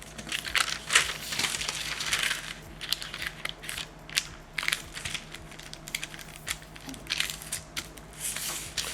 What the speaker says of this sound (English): bend the paper.